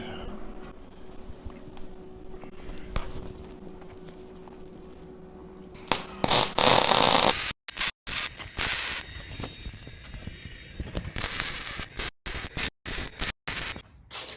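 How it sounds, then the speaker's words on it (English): Arc welding on a steel gate, starting after a quiet stretch with a sharp crackling hiss that cuts in and out in short bursts, loud and close, with no voices. "let's get her welded up"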